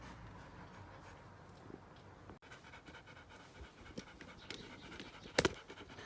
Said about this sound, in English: That's not me panting.